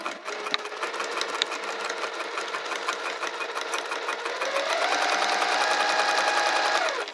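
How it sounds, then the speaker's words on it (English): Sewing machine backstitching through a cork wrist pouch, a loud continuous rapid mechanical whir with steady needle pulses, its pitch rising slightly partway through as the stitching speeds up. "Now we're gonna backstitch this part too."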